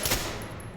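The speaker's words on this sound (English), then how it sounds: "then you go into the shooting range and you shoot" Rapid gunfire from a weapon on the shooting range of the SWAT shooter Ready or Not, a dense, loud burst of shots heard alone and close.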